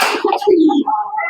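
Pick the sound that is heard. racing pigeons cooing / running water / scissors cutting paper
racing pigeons cooing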